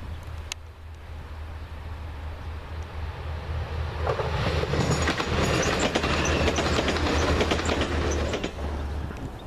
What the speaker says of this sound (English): Transpennine service from Middlesbrough to Manchester Airport